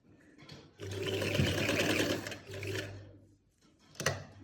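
A sewing machine stitches a pocket onto palazzo pants in two close, whirring bursts of rapid needle clatter separated by a short pause, followed by a brief final run.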